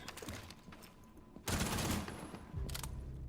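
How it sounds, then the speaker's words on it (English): Gunfire in Rainbow Six Siege, shooting through barricades: a dense burst of rapid shots followed by a second shorter burst, loud and close over game ambience. "So you can shoot through those barricades."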